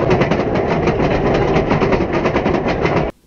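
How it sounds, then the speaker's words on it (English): Roller coaster train climbing the lift hill, with the anti-rollback dog clicking in a rapid, even rattle over a loud mechanical chain rumble that stops abruptly at the end. "every time you hear this dog clunk down into place like that, this is the click that you're hearing as the train goes up the lift hill"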